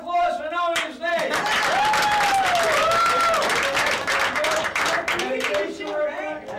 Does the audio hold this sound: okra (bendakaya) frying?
no